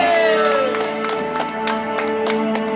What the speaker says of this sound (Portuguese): Uma salva de palmas pro nosso homenageado